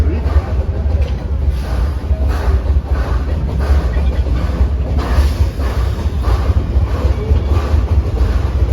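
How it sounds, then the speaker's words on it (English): Amusement park train at Six Flags on a rainy night, its engine straining up a hill as the wheels slip, a steady loud rumble with rail clatter and people talking nearby. "The engine really has to fight to get up the hill."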